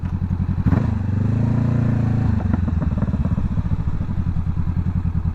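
A Honda CBR500R motorcycle engine up close surges to a held rev, then drops back to a lumpy, pulsing idle with a steady thumping beat.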